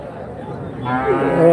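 At a cow market, a native-breed cow gives a rising moo, close and loud, over a bed of crowd chatter and voices.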